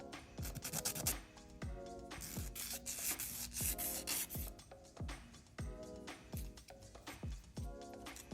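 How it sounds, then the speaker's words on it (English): Close, quiet rasping of a 180 grit nail file over gel X nails, a regular series of short scratchy back-and-forth strokes with brief pauses between them, heard alone. "this is a 180 grit file"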